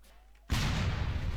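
A bomb detonates in Garry's Mod with a sudden loud blast after half a second of near silence, followed by a sustained, rumbling roar of debris and explosion noise that fills the rest of the moment.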